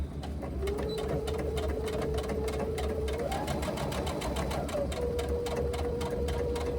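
A sewing machine stitches steadily across the short pointed edge of a laptop bag gusset, a fast continuous motor whir with rapid needle ticks, close and alone for about seven seconds.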